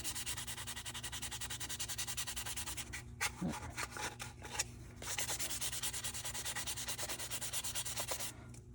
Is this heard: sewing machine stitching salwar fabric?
no